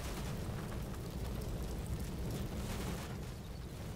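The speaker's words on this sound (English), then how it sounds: "we got a lot of nades coming up there from the distance" Grenade blasts in the Combat Mission: Black Sea war game, a dense continuous wash of rumbling explosions and booms that stays loud and steady for the whole stretch, with no talking.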